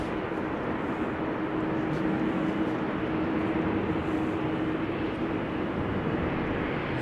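A KLM Boeing 787-10 Dreamliner on the move at Amsterdam Schiphol gives a steady, distant engine roar with a faint whine, constant in level throughout.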